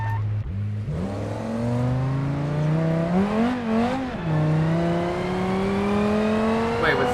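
Engine of a super saloon car with a supercar engine, driven in a video game, climbs steadily through a long acceleration run toward top speed, with one brief dip and recovery as gears change, loud and continuous.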